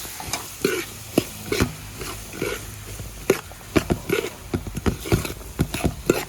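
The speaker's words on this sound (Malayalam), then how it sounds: "നല്ലപോലെ ഒന്ന് മിക്സ് ചെയ്ത് കൊടുക്കാം." Chopped apple champakka is mixed in a pan with a spoon, giving soft irregular scrapes and clinks over a light sizzle, close by and without talk.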